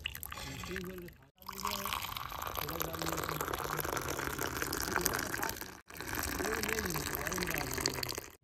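Freshly brewed tea poured out to serve, a steady liquid gush running for several seconds with two brief breaks, heard under a voice talking.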